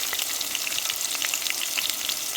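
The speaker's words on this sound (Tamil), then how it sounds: "வெட்டி வச்ச வெங்காயத்தையும் போட்டுக்கிறோம் ரெண்டு பச்சை மிளகா போட்டுக்கிறோம்" Chopped onion and green chillies fry in a pan for a dried fish curry, giving a constant, close, bright sizzle with faint crackles and no pauses.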